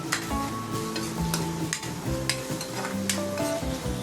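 Tomato being stirred and fried into a masala in a pan for chicken puff filling, a close sizzle with repeated scraping and spoon clatter in an uneven rhythm, and a tonal hum running underneath.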